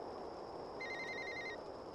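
A telephone rings inside the video game Alone in the Dark, a repeating electronic trill rising over a steady background hum, moderately loud with no speech.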